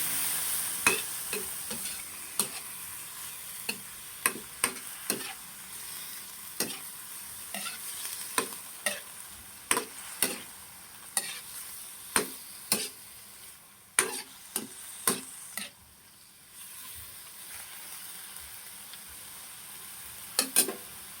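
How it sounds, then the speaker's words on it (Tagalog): Chicken gizzards frying with golden-brown garlic, onion and ginger in a pan, stirred with a spatula that clacks against the pan in a slow, regular rhythm over a soft, quiet sizzle. "Lagyan na po natin itong gizzard. Haluin po natin."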